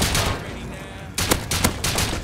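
Rapid gunfire bursts in the survival game Rust, loud and close, a sustained volley that cuts off briefly before another cluster of sharp repeated shots, with faint voices in the background.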